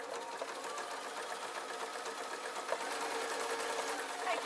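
A sewing machine runs through PVC and wool on a ballet bag, a continuous close whirring with fast regular needle beats and a slight rise in intensity toward the end.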